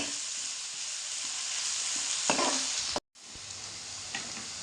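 Marinated chicken sizzles steadily in a pan with palak, a loud continuous frying hiss broken by occasional stirring scrapes and a brief cut to near silence midway.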